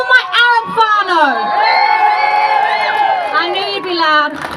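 Crowd at a solidarity march for Palestine in a civic square, cheering and whooping loudly in response to a call, many high shouting voices overlapping in a sustained roar that eases near the end.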